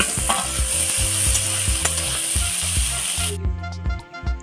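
Green chillies and boiled peas frying in oil in a wok, a loud, dense sizzle with clattering stirring and knocking strokes that cuts off near the end, leaving fainter scraping.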